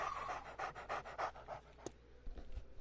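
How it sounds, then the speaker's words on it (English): In the 7 Days to Die video game, a dog pants close by in a quick, even rhythm of breathy puffs that trail off into quieter background noise near the end. "Now I gotta listen to the dog."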